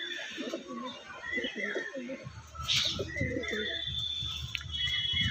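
Andhra pigeons kept for sale coo softly in soft repeated bursts beneath someone talking close by, with other faint bird sounds in the background.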